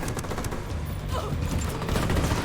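Dense rattling gunfire in the shooter game Ghost Recon Wildlands, a continuous overlapping fusillade at moderate loudness with no clear gaps.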